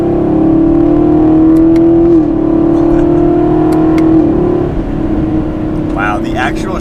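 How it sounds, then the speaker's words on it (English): A 2019 Chevrolet Camaro SS with a 10-speed automatic pulls hard in third gear, a steady loud engine drone rising in pitch, then dipping briefly at a quick upshift before climbing again, with someone talking over it inside the cabin. "So in third gear, we'll accelerate."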